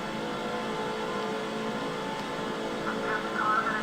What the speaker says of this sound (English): it sounds like there are other cars making their way on the pit road this time